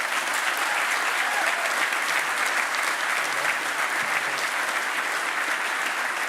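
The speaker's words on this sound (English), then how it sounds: "I think that deserves a round of applause as well." A large audience at a GAA awards night at Croke Park claps steadily and loudly, a dense, even wash of applause lasting throughout with no voices on top.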